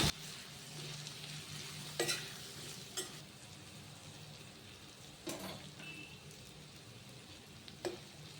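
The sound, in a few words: vegetables sizzling while stirred in oil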